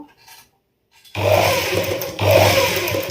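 A sewing machine stitches the hem of shortened jeans, starting abruptly after a short quiet pause and running in two close, loud, continuous bursts of rapid mechanical whirring.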